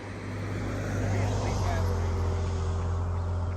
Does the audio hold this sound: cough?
no